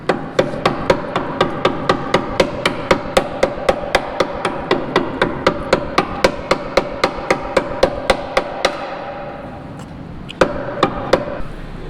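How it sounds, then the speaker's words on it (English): A hammer strikes the metal chassis of a Lexus RC F where slits have been cut, landing about two dozen sharp, ringing blows at an even, quick pace. After a short pause, a few more hits follow. "Now I just gotta hammer it in."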